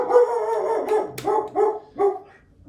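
A pet dog barks repeatedly at home, reacting to a flight stick being tested with an Xbox Series X flight game; four or five sharp, loud barks come close by in an uneven rhythm, with a short yelp between them.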